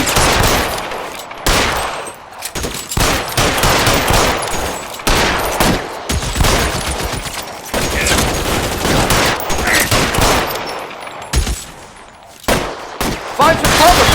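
Gunfire erupts in a shootout in the LA Noire video game, loud rapid volleys of shots in close bursts separated by brief pauses, continuing for the whole stretch.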